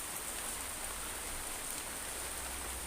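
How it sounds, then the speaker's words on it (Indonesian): Steady rain falls outdoors at a fishing spot, a dense, even hiss of drops on surfaces that holds constant with no pauses or voices. "Mudah-mudahan hujan segera reda."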